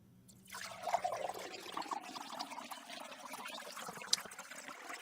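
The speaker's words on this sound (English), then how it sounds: "Did you hear the water going down?" Water drains away in a soft gurgling trickle and pour, steady and fairly faint, with a small drip near the end and no voices.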